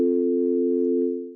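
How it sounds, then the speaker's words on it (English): A steady, pure sine-wave tone from the Vital software synthesizer holds at one pitch for over a second, then fades slightly at the end; smooth and unwavering, with no voices. "I forget this starts out in a sine wave."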